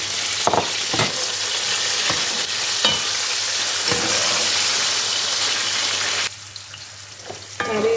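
Apricots frying in oil in a pan for a Novruz holiday pilaf: a steady, loud hiss with occasional stirring scrapes and clicks, the sizzle dropping noticeably quieter near the end.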